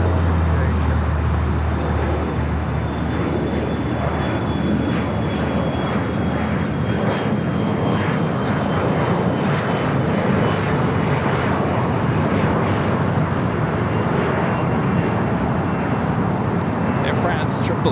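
An Air France Boeing 777-300ER jet at LAX airport, with a loud, steady engine roar that holds for the full length, mixed with background traffic noise and radio chatter.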